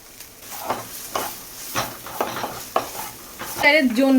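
Grated coconut filling stirred in a hot pan, spatula strokes scraping rhythmically about twice a second over a continuous sizzle, ending in a louder scrape with a brief ringing clink.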